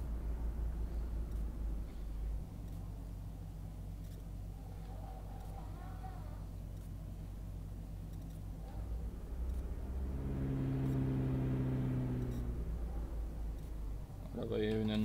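A Mercedes-Benz S600 W140 drives in the City Car Driving game, its engine a steady low rumble that swells as it revs up near the end, with talking over much of it.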